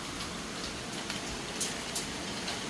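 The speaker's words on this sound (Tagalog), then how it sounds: "Ang lakas ng ulan sa labas." Heavy rain pouring down outside, a steady dense hiss with a few louder splashes and drips standing out near the middle and end, fairly soft and with no talking.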